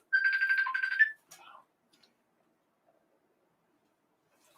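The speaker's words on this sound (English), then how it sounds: "Jane's phone call" A mobile phone rings with an incoming call, a short bright melodic ringtone burst lasting about a second before cutting off, followed by faint shuffling and quiet.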